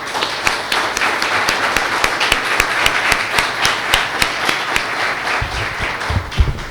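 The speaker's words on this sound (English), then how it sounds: "Big round of applause for Mr. Thakker." An audience at a finance session claps for the speaker in a loud, busy round of applause with distinct individual claps and a few low thumps toward the end.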